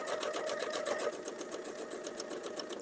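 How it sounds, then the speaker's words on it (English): A sewing machine runs steadily while it stitches along a quilting template, giving a close, even, fast mechanical hum and rattle with no voice over it. "I can just sew right along until I get to that next spot"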